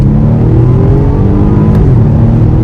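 BMW M135i accelerating in sports mode, a loud, steady engine drone with rising harmonics heard from inside the car, continuous with no talking.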